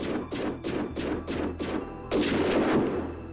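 Rapid gunshots in the video game Unturned, six or so sharp reports in a quick regular rhythm followed by a longer, heavier burst, fairly quiet and with no talk over them.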